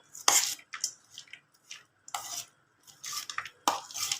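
Bhel, a puffed-rice snack topped with coriander, is stirred in a bowl with a spoon, giving intermittent close scraping and clinking strokes with short gaps between them.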